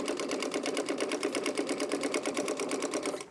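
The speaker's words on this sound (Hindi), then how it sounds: "मशीन पे इस तरह सिलाई लगानी है।" A sewing machine stitching a fabric yoke runs in a steady, even rhythm of fast needle strokes, close and moderately quiet, with no speech.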